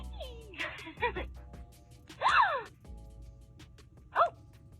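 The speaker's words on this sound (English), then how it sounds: "Like a gasping sound." A Trolls doll gives short electronic gasping and squeaking noises when a button is pressed, coming in three brief bursts with gaps between them, close by and moderately loud.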